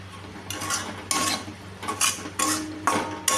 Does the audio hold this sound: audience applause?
no